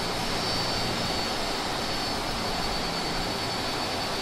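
Embraer ERJ-135 regional jet taxiing in a flight simulator game, a loud continuous jet engine roar with broadband hiss and steady whine, unbroken and close, no talking.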